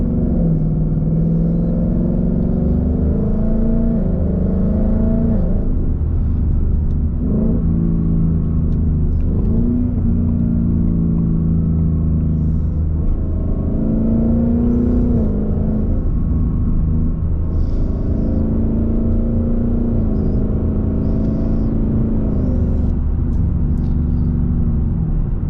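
A Ford Mustang engine in sport mode revs hard through its gears on paddle shifters, loud and close, with rising engine pitch that drops at each upshift in a repeating climb across the whole stretch.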